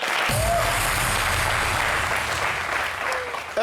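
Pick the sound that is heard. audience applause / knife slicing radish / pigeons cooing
audience applause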